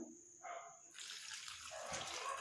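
Water runs steadily from a tap, splashing in a sink as hands rub under the stream, close and fairly quiet.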